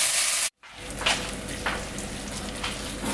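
Pork chops, about four of them, fry in a pan over low heat for Vietnamese broken rice, giving a steady close sizzle with a brief cut-out near the start and a few soft crackling bursts.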